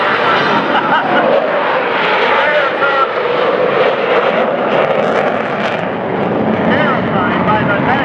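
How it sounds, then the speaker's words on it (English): A B-1B bomber roars overhead at a Miami Beach air show, a loud, steady, broadband jet rumble that holds throughout without fading. "recognizing this airplane, the B-1B"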